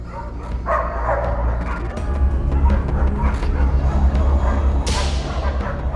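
Several dogs bark and yip excitedly in quick bursts, close and loud, with people shouting over a noisy background.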